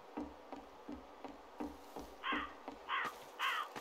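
Raven caws in a spooky Gmod map, three loud harsh calls near the end over a steady rhythmic knocking or chopping pattern in the background.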